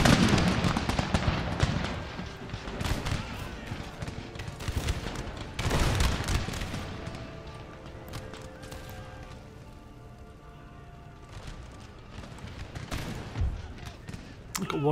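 Massed musket volleys crackle through a pitched battle in Empire Total War, dense bursts of rapid overlapping shots rising and falling in loud clusters, with a lull midway before the firing swells again.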